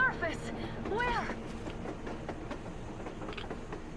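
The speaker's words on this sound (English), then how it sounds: "A train! A damn train on the surface!" A train rolling along the surface in Metro Exodus, a rumbling, clattering rail passage heard beneath excited talk, with rhythmic clicks and a steady low roar throughout.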